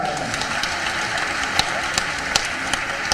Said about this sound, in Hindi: एक बार जोरदार ताली बजाकर मोदी जी का